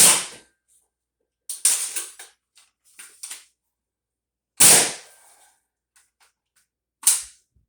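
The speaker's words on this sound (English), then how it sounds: "This blaster here shoots about 280 to 290, depending on conditions." A toy foam blaster, a homemade build rated at about 280 to 290 feet per second, fires four sharp, loud pops, each followed by a brief mechanical rattle of the mechanism, with quiet gaps between shots.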